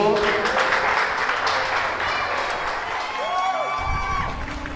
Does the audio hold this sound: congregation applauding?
yes